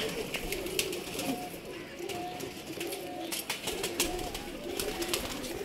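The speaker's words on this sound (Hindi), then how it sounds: "माशाल्लाह कबूतर देखें।" Caged pigeons coo in a soft, repeated low warble from close by, accompanied by rustling and faint chatter in the background.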